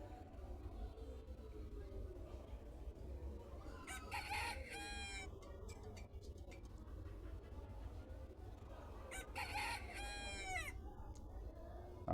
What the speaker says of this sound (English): I'll say cock crow.